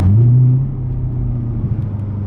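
Deep, loud exhaust rumble from a straight-piped C7 Corvette, a strong low burble that swells in the first half second and then settles into a steady throaty drone, close by and alone.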